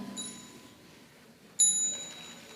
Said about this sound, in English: So with the sound of small bell